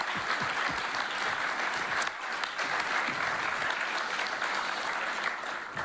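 An audience at a QGIS conference opening applauds the volunteers, with dense sustained clapping from a full room that continues steadily throughout.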